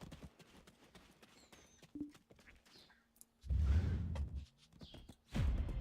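Horse hooves clip-clop in the online role-playing game Black Desert Online, a few soft steps followed by two louder, nearer bursts of galloping hoofbeats, with no talk.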